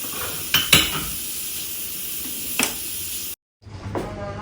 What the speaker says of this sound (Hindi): ऐसे ही धीमी धीमी आंच पे ये पकते रहेंगे और बहुत ही टेस्टी खीर बनेगी।